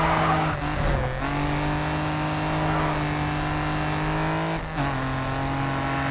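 A racing car engine in the video game GRID 2 drones steadily at high revs, with two brief gear shifts dipping the pitch, loud and continuous without voices.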